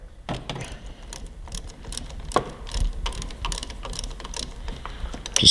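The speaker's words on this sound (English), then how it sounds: "got a little quarter drive ratchet here" A quarter-inch drive ratchet backs a 10 mm jam nut off the brake lever pivot bolt of a Kawasaki Ninja 400, producing a fast close clicking and ticking that runs throughout with a few sharper knocks.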